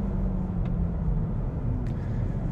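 A low, continuous engine rumble from a VW Jetta GLI drones steadily, deep and even with little variation, like a car idling close by.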